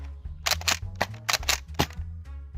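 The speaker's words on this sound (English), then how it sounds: "Now I'm going to be shooting a couple mags with used darts" A Nerf N Series Pinpoint blaster fires used foam darts in a quick run of sharp mechanical snaps and clacks, close and loud, irregularly spaced with priming rattles between shots.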